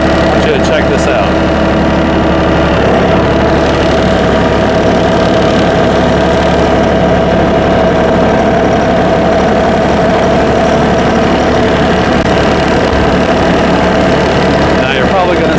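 New Holland Workmaster tractor engine running steadily a little below 1500 RPM, a constant loud diesel drone with low rumble and a faint tonal hum, close up with no break.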